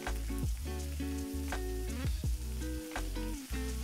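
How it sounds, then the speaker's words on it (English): Anchovies and garlic fry in a pan for a Japanese-style uni pasta, giving a continuous close sizzle broken by several bursts of stirring and scraping. "I'm gonna add the anchovies and fry the mixture until the garlic is super fragrant and cooked through"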